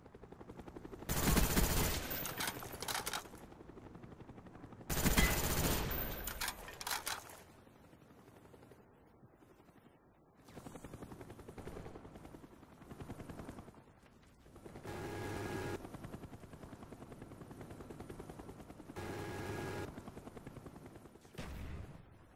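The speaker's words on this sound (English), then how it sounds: "Friendly Cobra inbound." A Cobra attack helicopter fires its guns in Call of Duty Black Ops, with loud rotor thumping and bursts of rapid machine-gun fire repeating several times over about twenty seconds, alternating with quieter stretches of distant rotor drone.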